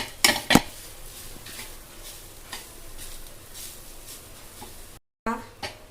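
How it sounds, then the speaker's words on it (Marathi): Chana dal pitla with raw onion being stirred and roasted in a pan: a soft dry sizzle, spatula scrapes and a couple of sharp metallic clinks near the start, with someone talking over it. "हे बघा हे कंटिन्यू असं हलवत राहायचं, बारीक करत राहायचं"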